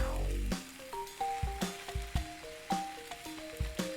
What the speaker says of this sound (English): So I'm going to add the spinach now. Let that cook down.